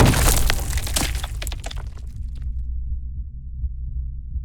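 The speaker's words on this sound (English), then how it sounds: "A single skull fell from just above me, loosened by my impact against the bones below. At my feet, it shattered." A skull falls onto bones and shatters in a burst of cracking and clattering up close, fading within about two seconds into a low, steady rumble.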